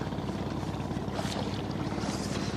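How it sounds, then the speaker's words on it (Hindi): A small hand-rowed boat crossing the Kosi river, with a steady wash of water and wind noise and no clear engine. "लोग अभी कोसी नदी में नाव से पार कर रहे हैं"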